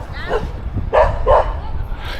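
Several dogs bark in short excited yaps at a passing cyclist on a bumpy rural road on the way from Thailand to China, a few loud close barks in quick succession.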